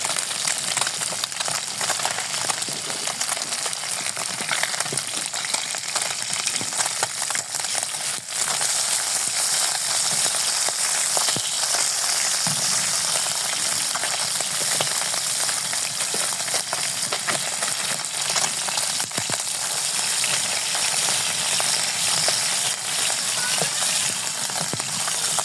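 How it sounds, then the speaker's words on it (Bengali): Fish frying in oil in a home kitchen pan, nearly done on one side; a long, even crackle and hiss carries on steadily, punctuated by a few sharp utensil clicks, close but fairly soft. "মাছ আমার এই পিঠে ভাজা হয়ে গেছে প্রায়।"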